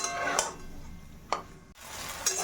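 Cauliflower and half-boiled moong dal being sautéed together in a pan for a vegetarian dish, with a low steady sizzle and a few sharp spatula scrapes and stirs against the pan.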